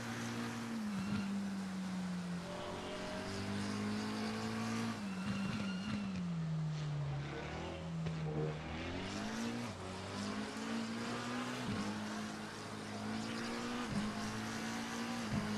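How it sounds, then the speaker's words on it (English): Race cars in the Assetto Corsa Competizione racing game roar through a wet, rainy race, with loud, steady engine whine rising and falling through gear changes as cars pass at speed. "that car just passed him like he was standing still right there"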